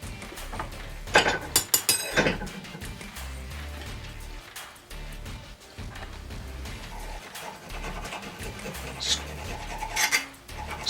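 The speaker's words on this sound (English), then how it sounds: "If I work at it long enough, it'll just ruin my file probably. But see, skates over it." A hand file rasps over hard high carbon steel in uneven scraping strokes, skating rather than biting. The strokes come in short bursts with quieter gaps, close and moderately loud, with faint metallic clinks and no talking.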